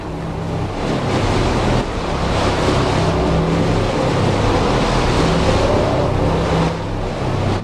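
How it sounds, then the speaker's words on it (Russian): Strong wind roars in a loud, continuous rush with buffeting against the microphone, steady throughout with no speech. "Ветер что-то такое ощущение, что реально сильнее стал"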